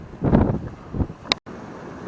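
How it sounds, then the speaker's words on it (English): Strong gale-force wind buffets the microphone on a beach, loud rumbling gusts rising and falling, with a brief dropout near the end before steady wind resumes. "It is blowing a gale"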